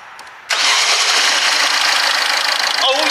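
A 2010 Ford Fiesta diesel engine cranks and catches about half a second in, then runs at a loud, steady idle with a rattly diesel clatter until the end.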